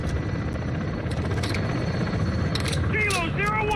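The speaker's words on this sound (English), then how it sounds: "Oh, that's the chopper." Helicopter in the Modern Warfare II video game, a steady low rotor drone filling the scene with game voices and radio chatter over it.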